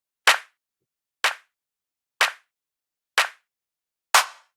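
A clap drum sample from a house track made in Ableton, shaped with EQ, strikes five times alone at an even pace of about one per second. Each hit is sharp and crisp with a brief tail.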